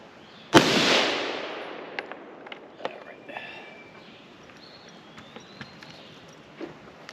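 A Remington 6.8x43 SPC rifle fires a single loud, close shot at an outdoor range, with a long ringing decay, followed by a few faint clicks and small knocks.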